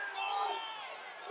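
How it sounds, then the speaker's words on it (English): A big crowd murmurs and cheers in the stands at a night high school football game between Mount Carmel Area and Shamokin, a steady distant roar of many voices. "there's a big crowd here tonight, folks, a big crowd"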